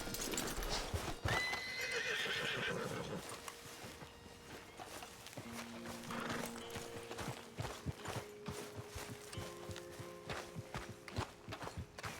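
Horse in Red Dead Redemption 2 whinnies loudly near the start, then its hooves clip-clop in a steady, quick rhythm over a bed of game music and ambience.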